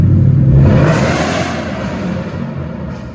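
A 2013 Mustang GT with a hole in its muffler revs loudly, a deep, dense rumble that rises and then slowly eases back over a few seconds, close by and with no voices.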